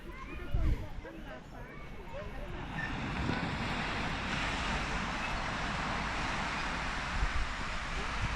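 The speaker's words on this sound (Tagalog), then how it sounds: "Alon, alon, alon." Ocean waves washing in a broad, steady wash of surf that swells after the first few seconds, with wind buffeting the microphone and a person speaking briefly.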